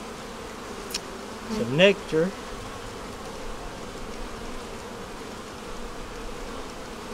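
Honey bees cluster in the middle of a hive frame, giving a soft, low continuous buzz under a brief spoken remark, with a faint passing hum.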